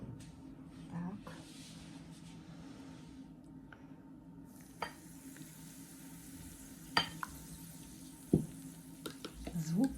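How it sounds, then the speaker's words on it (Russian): Cookie dough mixture is stirred soon after hot water is poured in. Soft, quiet scraping and sloshing continue under low talk, with a few sharper knocks toward the end. "Залили, хорошо перемешиваем, чтобы это все до однородной массы у нас получилось"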